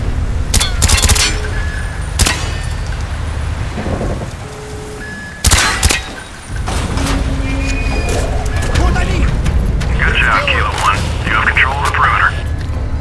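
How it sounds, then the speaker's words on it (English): Gunfire in Call of Duty: Black Ops as door hinges are shot out, sharp loud cracks bursting over a dense rumbling game soundscape, with voices talking over parts of it. "Shoot the hinges!"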